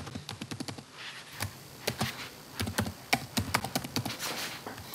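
A password is typed on a computer keyboard in quick bursts of close, crisp keystrokes, with short pauses between runs of taps.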